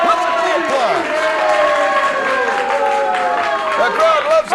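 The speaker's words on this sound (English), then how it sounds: "Listen to the applause." A wrestling arena crowd applauds and cheers after a victory in an NWA Detroit match, a sustained loud roar under a commentator talking.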